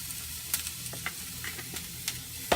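Red pepper sizzling in a hot pan with garlic, a faint continuous crackle punctuated by several sharp pops and light clicks as it is stirred.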